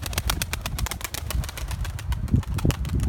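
Pigeons in a flock with a wild pigeon flying in among the young birds, a dense burst of flapping wings close by, repeated rapid wingbeats filling the clip with a few heavier thumps near the end.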